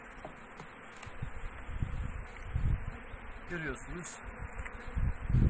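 Steady buzzing of many bees around a hive, dense and continuous, with a brief spoken word and some handling noise nearby.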